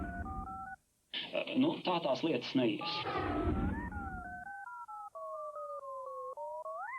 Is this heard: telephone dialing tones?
yes